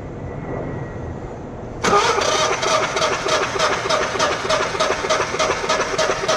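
A generator engine cranks over on the starter during a compression test, a steady rhythmic chugging that starts abruptly after a quiet moment and repeats evenly, loud and close, with no talking.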